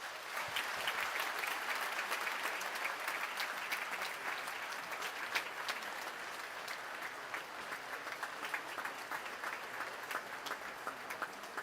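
A large audience at a development bank annual meeting with heads of state claps continuously for the president, a broad, even wash of applause with scattered louder claps that stays strong throughout.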